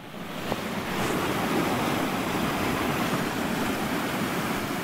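A small waterfall runs down from muddy heights, a steady, fairly faint rushing wash of water with some wind, heard alone without talk.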